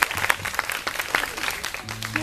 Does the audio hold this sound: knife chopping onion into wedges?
no